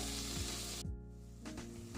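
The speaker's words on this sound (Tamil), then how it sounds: "வெட்டி வச்சுருக்க 2 தக்காளியும் சேர்த்து இப்போ நல்லா வதக்கிக்கலாம்." Onions and tomatoes sauté in a pan for sambar, a steady close sizzle with soft stirring scrapes, no voices.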